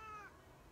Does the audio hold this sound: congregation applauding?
no